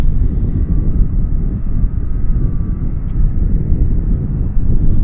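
Heavy low rumble and wind buffeting as a Porter Airlines Embraer jet nears Vancouver airport, a steady close drone with a faint thin tone above it and no talking.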